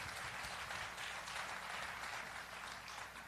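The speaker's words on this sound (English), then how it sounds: "A round of applause for them as well." Faint, steady applause from a demo day conference audience thanking the sponsors, a soft wash of many hands clapping at a distance.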